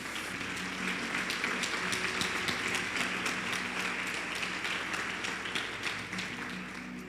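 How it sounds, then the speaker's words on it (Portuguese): A church congregation applauding, a dense, steady wash of clapping from many hands that holds for several seconds at moderate loudness without speech. "Quem concorda, aplauda ao Senhor Jesus."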